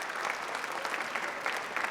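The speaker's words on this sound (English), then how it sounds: "Let's give them a big round of applause." An audience at the UC Berkeley AI Hackathon 2025 awards applauds steadily, dense clapping from many hands filling the space without pause.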